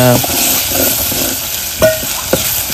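Ground masala paste for a village-style goat mutton dish roasts in a hot pan, sizzling loudly and continuously, with a few sharp scraping stirs of a spoon near the end.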